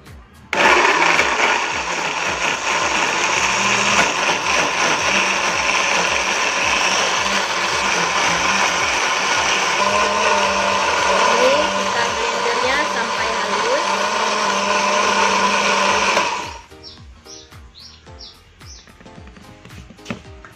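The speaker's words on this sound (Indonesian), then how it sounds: "Langsung kita blender." A blender grinds rendang spices with about 100 ml of water, running loudly and steadily for about sixteen seconds, a dense whirring grind, then cuts off, leaving quiet background noise.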